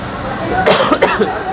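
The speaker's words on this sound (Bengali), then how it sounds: "কাশি হচ্ছে প্রচুর" Coughing from a person out in cold weather, a couple of short harsh bursts close by against a steady background.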